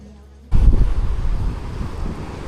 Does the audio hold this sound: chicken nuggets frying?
no